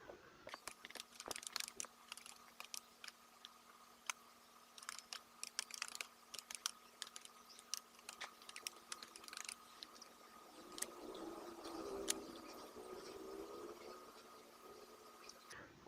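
Fingers typing a channel name on a computer keyboard, a quiet run of quick, uneven key clicks close by, with faint handling noise toward the end.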